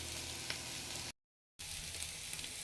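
Masala-coated fish fries on a tawa with a steady close sizzle and faint crackles, broken by a short gap of silence before the frying resumes.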